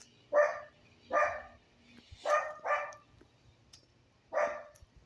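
Several dogs bark in short, separate bursts, five barks over a few seconds with uneven gaps, heard at a moderate distance outdoors with no talk.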